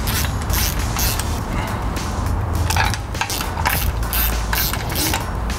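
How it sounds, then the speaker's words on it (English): Ratcheting torque wrench tightening bolts on a lifted truck during a 4.5-inch Carli pintop suspension installation, giving steady repeated creaks and clicks close up, continuous and loud with no talking. "Now that I got all those started, I'll go ahead and torque them down evenly."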